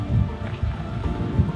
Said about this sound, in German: Es regnet hier schon 2 Stunden oder so.